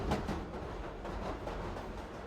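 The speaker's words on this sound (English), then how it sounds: "we have a very long train, and it's moving really fast" A very long train races along the track at high speed in the Roblox game Jailbreak, giving a steady, dense rumbling rush that holds level and close for the whole stretch.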